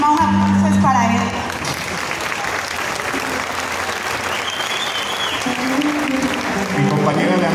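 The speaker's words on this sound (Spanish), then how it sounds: "un aplauso es para él" Loud, sustained applause from a crowd at a Veracruz décima performance in Tlacotalpan, steady clapping throughout with a voice speaking over it at the start and end.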